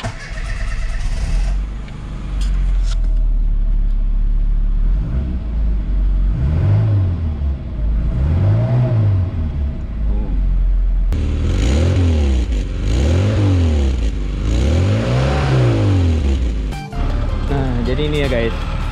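A 1997 Mini Rover 1.3i engine revs up and down repeatedly, loud and close, with rising and falling pitch sweeps over a steady idle rumble.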